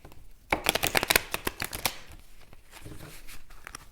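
Tarot cards being shuffled by hand, a quick run of crisp riffling snaps and slaps that starts after a short pause, then softer sliding and tapping of the deck close up, with no talking.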